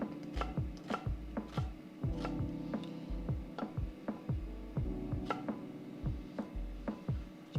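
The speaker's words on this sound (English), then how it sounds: "cut up a little bit of onion" Onion being chopped with a knife on a board, a steady run of crisp, close knife strikes in an uneven rhythm with no talk.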